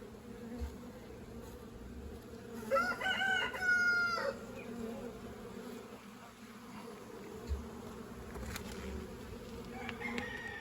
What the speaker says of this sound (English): that's the 8th swarm of the year right there